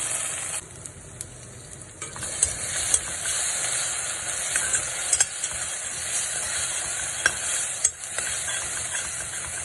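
Ground masala paste for a North Indian chicken curry frying in oil, a steady close sizzle and hiss with occasional stirring scrapes and small pops throughout, no voices.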